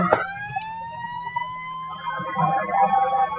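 A vehicle siren inside the video game Roblox sounds as a steady, loud electronic wail holding nearly constant pitch for several seconds, with faint game noises and a brief voice near the end.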